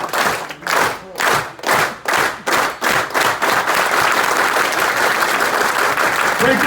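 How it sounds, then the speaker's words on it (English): A crowd at a coach's speech event claps in unison, starting as slow, evenly spaced rhythmic claps that speed up and merge into continuous loud applause. "Get everybody clapping."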